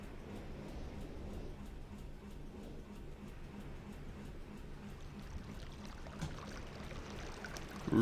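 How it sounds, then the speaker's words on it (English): Running water in the Selenitic Age of the game Myst trickles and pours quietly, a faint steady gurgling stream with small splashy flickers that rises slightly at the very end. "Running water."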